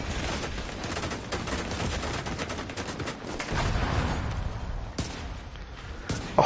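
Rapid gunfire in The Division 2 video game aimed at a robot enemy, a dense continuous burst of shots with sharper individual cracks near the end, loud and up close.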